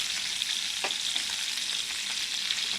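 Meatballs sizzle in a pan of hot grease for old-fashioned gravy, a steady close frying hiss with light crackles and occasional stirring, no voices.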